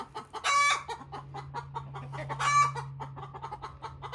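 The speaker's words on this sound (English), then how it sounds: "So, the chickens are happy, I think. I think those are happy calls." Backyard chickens cluck and call contentedly, with two louder bursts of squawking close by over a steady low hum and softer scattered clucks in between.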